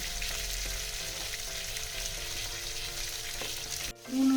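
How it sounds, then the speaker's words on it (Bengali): Mango sautéed in a pan with milk, turmeric and salt for aam mourala, a steady moderate frying hiss with light stirring clicks that breaks off abruptly near the end before a brief louder burst. "দুধের সঙ্গে আমটাকে ভালো করে আমি কষিয়ে নেব"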